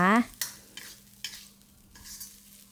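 Canned fish chili paste with Karen chilies being stir-fried in a pan: a series of scraping, sizzling stirring strokes at close range, each a short broadband burst, with a brief tonal sound at the very start.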